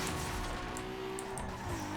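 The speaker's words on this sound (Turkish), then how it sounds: "Arabanın sesi şu anda stok ses." Stock engine of a car in Need for Speed Underground 2, a steady droning hum with a sustained tone that shifts slightly near the end, loud and continuous throughout.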